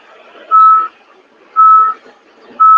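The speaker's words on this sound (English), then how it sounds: "Yeah, somebody backing up." Three evenly spaced electronic reversing beeps from a truck backing up, each about a third of a second long, sounding clearly at roughly one-second intervals over faint background noise.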